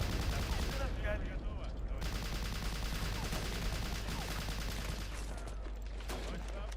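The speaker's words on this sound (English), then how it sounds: "Holy shit, son. They have artillery also." Artillery and gunfire in the video game Hidden Stroke 2: a dense, continuous barrage of shots and rumbling blasts, loud and unbroken, with a voice talking over it.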